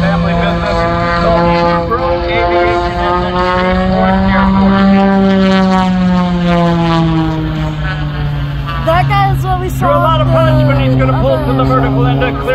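A propeller aerobatic airplane engine drones steadily at the Dayton Air Show, rising and falling in pitch as it climbs vertically and rolls, loud and continuous throughout.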